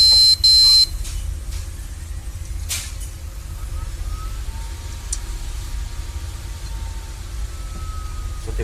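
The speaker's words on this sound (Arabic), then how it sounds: "تلاقي الجهاز بيعمل صفارة وما يشتغلش، صفارة زي دي كده" A desktop PC with a hardware fault beeps at power-on: a short run of rapid electronic beeps at the start gives way to a steady, loud fan hum.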